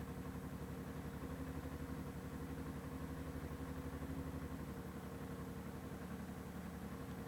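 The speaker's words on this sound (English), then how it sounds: "Run the engine at idle" A motorcycle engine idles during carburetor service, a steady, faint, even-pulsed rumble that runs unchanged throughout with no voices.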